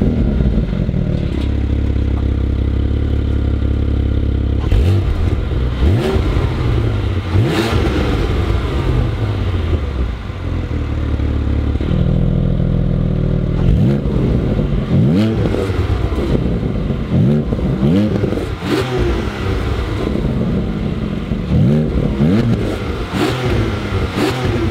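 A Porsche Cayman/Boxster GTS 4.0 six-cylinder engine revs hard and continuously on a racetrack, rising and falling through gear changes as it accelerates, loud and close with a rattling edge.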